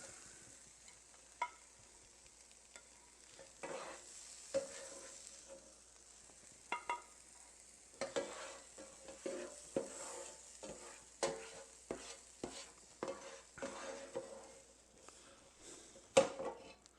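Mushrooms for stroganoff sizzling softly in a pan while being stirred, with irregular scraping and clacking of a utensil against the pan that grows busier and louder toward the end.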